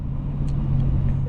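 A 2023 Lexus IS 500 F Sport Performance on the move, heard from inside the cabin as a steady, low engine drone with a constant road rumble underneath.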